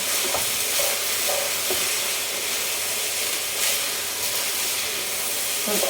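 Rice fries in a pan with a steady, even sizzle and hiss at moderate loudness, broken by a few faint clicks and scrapes of stirring; no one speaks.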